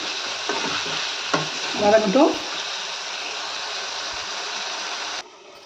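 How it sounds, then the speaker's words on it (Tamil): Turkey berries fry in a pan for a kuzhambu with potato, giving a steady bright sizzle broken by several scraping stirs, with a louder burst of stirring near the middle; the sizzle cuts off just before the end. "சுண்டைக்காய் ஒரு 2 நிமிஷம் நல்லா வதங்கட்டும்."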